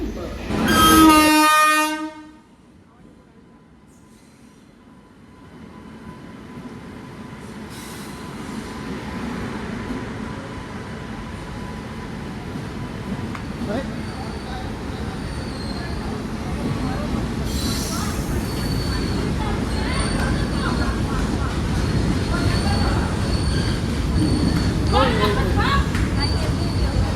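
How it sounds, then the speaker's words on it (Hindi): The Panvel Nanded Express pulls into platform 6 at a station, opening with a loud horn blast, then a long, building rumble of wheels and carriages rolling in with faint squeals while a station announcement plays. "1763 पनवेल नांदेड़ एक्सप्रेस प्लेटफॉर्म क्रमांक 6 पर आ चुकी है।"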